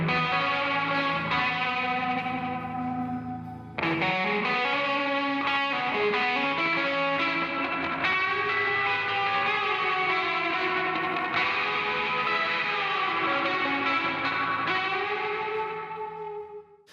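An electric guitar played through a Soundtoys delay effect with feedback and wobble gives sustained, chorused chords with smeared echoes and pitch wavering, continuous and full, pausing briefly near the start before swelling again and fading at the end.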